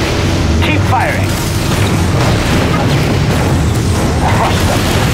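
Explosions and gunfire from a war strategy video game rumble in a dense, constant barrage, with loud blasts layered over continuous battle noise and game voices speaking over the top.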